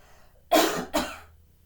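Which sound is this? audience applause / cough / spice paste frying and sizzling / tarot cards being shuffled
cough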